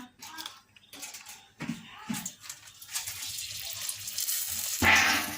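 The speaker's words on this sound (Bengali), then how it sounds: "ফোড়নে দেবো শুকনো লঙ্কা, তেজপাতা" Dried red chillies and bay leaves are dropped into hot oil for tempering, setting off a growing sizzle and crackle that swells louder toward the end, with a few clatters of a utensil along the way.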